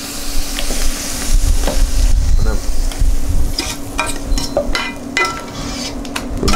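Mushrooms frying in a pan in meaty juices, a loud close sizzle with scattered clinks and scrapes of a utensil against the pan, steady throughout with no talk.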